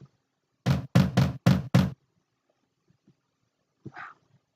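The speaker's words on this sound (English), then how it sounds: "Okay, so we're knocking." Knocking on a door in a video game: five evenly spaced, loud, close knocks in a quick row, then near silence with a faint low thud and a short animal-like whine.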